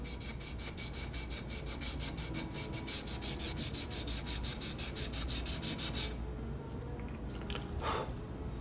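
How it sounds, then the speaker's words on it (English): Violin neck being smoothed by hand with a file and then sandpaper, a fast even rasping rub of repeated strokes for about six seconds, then a few softer scrapes. "With this file, I make the neck nice and smooth. And then I finish it with sandpaper."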